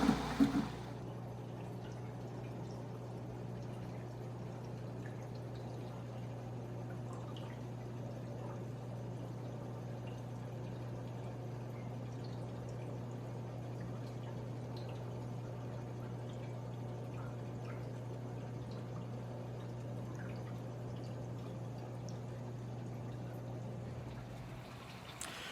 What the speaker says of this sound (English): now I fill the tank up with a python that is connected to a faucet